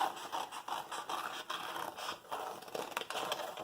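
A butterfly shape is cut out of paper with a steady run of close, dry scraping and snipping sounds, all fairly quiet and without speech.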